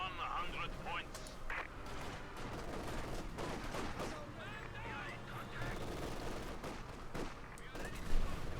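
A Katyusha rocket artillery barrage in the real-time strategy game Company of Heroes 2 rumbles as dense, overlapping explosions and distant gunfire under continuous commentator talk.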